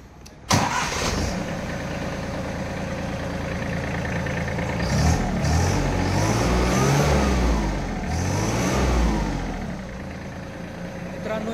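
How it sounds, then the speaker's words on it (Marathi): A Farmtrac Atom 30 4WD tractor with a Mitsubishi 30 HP three-cylinder engine starts with a sharp crank, then idles steadily nearby and revs up twice in smooth rising swells. "तर आता मित्रांनो मी तुम्हाला या ट्रॅक्टरची फायरिंग ऐकवणार आहे."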